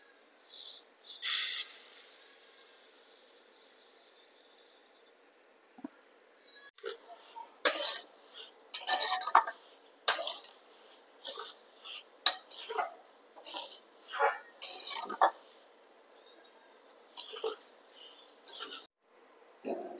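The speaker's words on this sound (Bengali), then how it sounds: "প্রথমে আমরা সাবুটাকে ফ্রাই করে নেব" Sago pearls frying in a pan, quiet sizzling at first, then a run of sharp rattling and scraping bursts as they are stirred, close and intermittent, with a cough-like noise early on.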